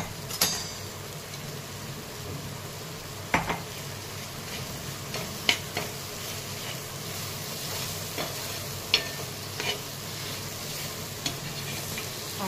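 Roasted crushed peanuts are stirred into a tomato chutney in a pan, with a soft continuous sizzle and scattered scraping clinks of the spoon at irregular intervals, no voices.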